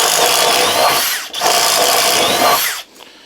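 A Flex cordless drill with a spade bit bores through wood, a loud continuous whine and chatter running about three seconds with a brief dip midway as the bit breaks through, then stopping.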